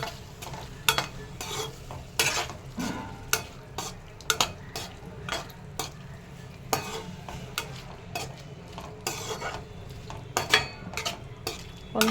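Paneer cubes, seasoned with chili powder, salt, turmeric and kasuri methi, fry in a pan with a soft steady sizzle while a spatula scrapes and taps against the metal in irregular sharp clicks.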